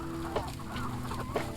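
Rhode Island Red chickens cluck softly in a farm coop, with a few short, close clucks over a low background hum.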